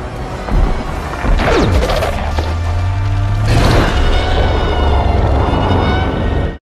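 Godzilla destroys King Ghidorah's heads with atomic breath in a monster film: loud crashing impacts and booming blasts, with a sharp smash near the start and another large explosive burst midway, over sustained roaring rumble.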